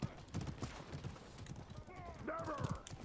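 Horse hooves clip-clop in the medieval combat game Mordhau, a quiet uneven run of hoof strikes mixed with voices talking over them.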